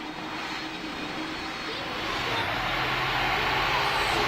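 Airbus airliner engine in a video game, a steady broadband roar that swells slightly louder partway through, with voices faintly present underneath.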